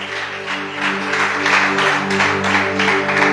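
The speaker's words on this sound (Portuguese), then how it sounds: "Então vamos aplaudir a Jesus" Church congregation applauding together, a dense, steady wash of clapping held at full loudness throughout, with a sustained organ or keyboard chord underneath.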